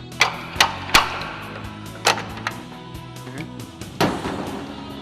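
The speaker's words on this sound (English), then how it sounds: "What we're going to do is pry up on the gearbox and try to remove it from the drum housing there." A JLG LiftPod gearbox being pried off its drum housing, producing a series of sharp metallic clacks and thumps at irregular intervals, several loud and close, over a quiet background.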